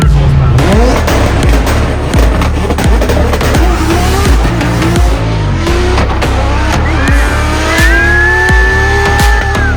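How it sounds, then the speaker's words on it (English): Bugatti Chiron, a 1500-horsepower hypercar, accelerating to the Gumball 3000 Middle East finish line: a loud, continuous engine roar with rising gear-change sweeps and tyre noise, with faint voices in the background. "Using a Chiron to cross the finish line of Gumball."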